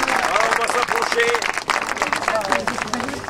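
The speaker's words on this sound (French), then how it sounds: "Ah, bravo, on peut applaudir, je crois." Crowd applause at a ribbon cutting during a truffle festival in Villeneuve-sur-Vère, scattered clapping under lively overlapping voices and chatter.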